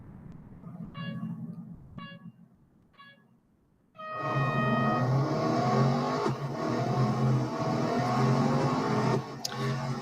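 An Aston Martin Vantage GTE 2018 race car at Laguna Seca in Real Racing 3: short beeps of a countdown over an idling engine, then the engine roars up loudly and holds a sustained high-revving drone as the car accelerates away.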